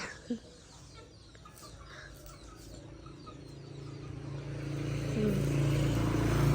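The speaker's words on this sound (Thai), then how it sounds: "ไก่ไง" A chicken gives a short cluck early on during a cold, foggy morning, followed by a low vehicle rumble that grows steadily louder and covers the background.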